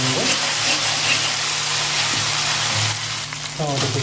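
Onion with ginger-garlic paste frying in a pan for Bengali khichuri, a loud dense sizzle that dips briefly near the end, with faint clinks and a short spoon scrape over it.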